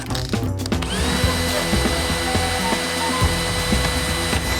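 A DeWalt power drill boring through steel, a loud, sustained motor whine with grinding, rattling bit chatter throughout, close up and running without pause.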